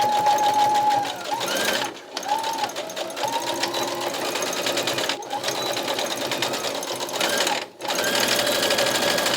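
Sewing machine stitching a garment waistband at home, a fast steady mechanical whir that runs nearly continuously and stops briefly a few times, close and clear.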